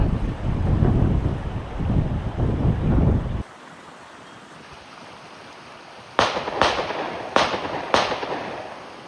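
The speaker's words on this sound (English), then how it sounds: "As long as they're not shooting in this direction." Gunshots from a nearby shooting range along a trail, four sharp, loud cracks spaced about a second apart after a stretch of wind rumble and quieter outdoor background, no talking.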